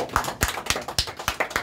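A crowd claps at a political rally in Gohana, Haryana, in a short run of sharp, irregular claps close by with no talk.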